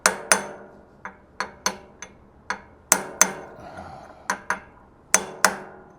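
Metal hammer blows on a gearbox part from a Grizzly G4003 lathe, a dozen sharp, ringing strikes in uneven groups, close and loud against a quiet workshop, with no talk.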